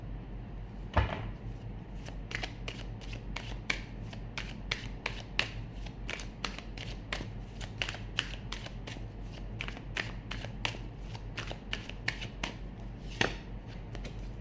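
Tarot cards shuffled by hand at a tarot reading, a long run of crisp riffling snaps and slaps at a steady, fairly quick rhythm, close and clear over a low steady background hum with no talking.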